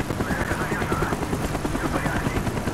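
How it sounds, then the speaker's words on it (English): A helicopter in the video game Call of Duty Black Ops thumps with a steady, rapid rotor chop over a loud engine roar, close and continuous with no talk. "Avoid the helicopter spot."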